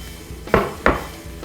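Two distinct clinks of a utensil against a bowl while milk is stirred into starch for eclair pastry cream, spaced about a third of a second apart, close and fairly loud against a quiet background.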